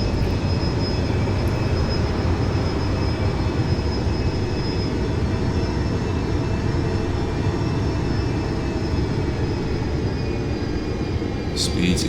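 An aircraft engine drones loud and steady throughout an aerobatic roll, pulling around 2G at high speed, with a faint click near the end.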